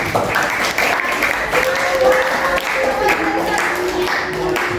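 Classroom applause for a student during a high school trigonometry lesson: a dense, steady burst of clapping from the class that fills the whole stretch, with a few voices faintly mixed in.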